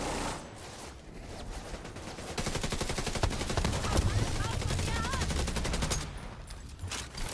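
Rapid automatic gunfire from The Division 2 video game, sustained bursts of fast repeated shots at close range, with a voice speaking briefly over the shooting.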